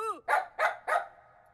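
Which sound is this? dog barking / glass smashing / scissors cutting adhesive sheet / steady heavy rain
dog barking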